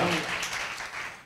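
A church congregation claps its hands in praise during a pastor's sermon, a brief, lively wave of applause that swells and then tapers off.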